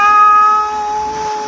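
A person imitating a cat's meow, a drawn-out tonal mewing voice, loud and close, fading slightly toward the end.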